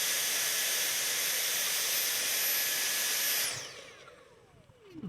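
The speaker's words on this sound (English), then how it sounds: "I want to vacuum this out to be sure that there are no metal pieces in this hole." A vacuum cleaner sucks metal shavings out of a bolt hole during a BMW E90 repair, running as a steady loud whooshing hiss for about three seconds before spinning down to silence.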